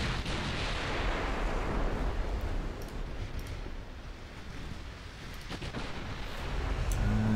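The battleship Nevada's main guns firing in a naval dreadnought game: heavy, booming blasts rolling into a long, loud, thundering rumble that fades and swells across several seconds.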